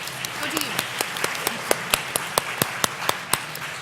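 An audience applauds a panel at a women's health research symposium, steady clapping throughout with sharp individual claps standing out, moderately loud and continuous.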